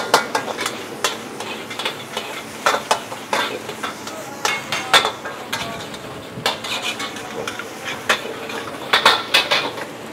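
Rice and noodles being stir-fried for nasi goreng in a busy restaurant kitchen, metal spatula scraping and clanking against the pan in quick irregular strokes over a low sizzle, close and loud.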